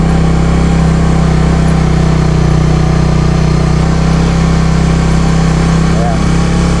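Suzuki Raider FI motorcycle engine braking on a downhill slope, a loud steady low drone with a strong constant hum that holds level throughout, dense broadband rumble and wind noise over it.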